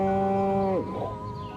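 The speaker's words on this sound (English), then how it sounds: "Again with the moo?" A cow moos once in the video game Destroy All Humans!, a loud, drawn-out tonal call that bends downward and fades into a soft breathy tail.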